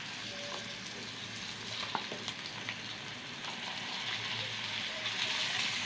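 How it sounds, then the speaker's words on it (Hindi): Mutton frying with light-browned onions in a karahi over medium flame, a steady moderate sizzle with faint stirring scrapes running throughout. "अब मैं गोश्त की भुनाई करूंगी तकरीबन 6 से 7 मिनट मीडियम फ्लेम पे"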